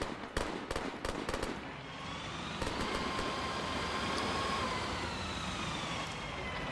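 A grenade blast in a military realism shooter game: a cluster of sharp, loud cracks and pops early on, then a long rolling rumble and ringing tail that fades slowly, with no talk over it.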